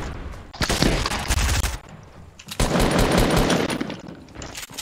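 Loud machine gun fire in the Fortnite video game comes in two sustained rapid bursts, with a brief pause between them and no talk over it.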